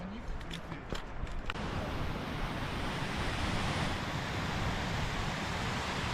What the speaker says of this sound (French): Trop belle cette rivière.